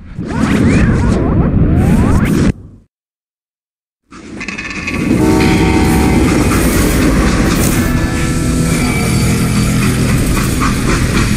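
Freight train rolling along the tracks in the Western shooter Call of Juarez: Gunslinger, a loud steady rumble with clattering wheels and rushing wind, briefly cut to silence before the roar resumes and holds.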